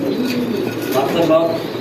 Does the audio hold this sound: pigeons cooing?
yes